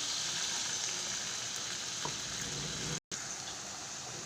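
Spice paste fries in a pan with a steady hissing sizzle as a little water goes in, a soft continuous crackle that cuts out for an instant before carrying on.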